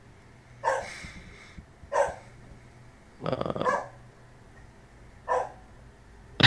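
Dogs barking in the background, four or five short barks spaced a second or two apart, moderately distant, with a brief murmur of speech.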